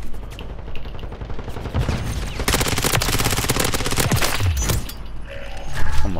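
ISO 9mm submachine gun firing in Modern Warfare 3, dense rapid automatic bursts, loud and close, with sharp cracks and a few pauses between strings of fire.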